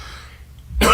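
A single short cough bursts out at the end after near silence, close and fairly loud.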